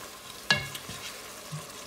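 Lamb curry with paprika stirred in a pan, one sharp scrape of the spoon followed by soft sizzling and a couple of quieter stirs.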